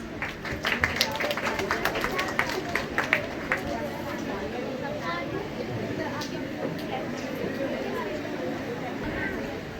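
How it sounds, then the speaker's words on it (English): At a school Independence Day celebration, the audience claps busily for a few seconds to welcome a Standard 8 student speaker. The clapping then settles into a steady murmur of crowd chatter. "Please welcome her with applause."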